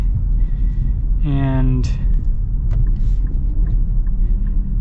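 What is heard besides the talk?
Nissan Pathfinder V6 engine accelerating uphill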